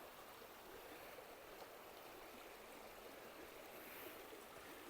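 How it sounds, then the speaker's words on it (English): River water flows in a steady, faint broadband rush along the Tarkine Drive, constant and unbroken, with no voices. "Just the sound of that water is so incredibly soothing."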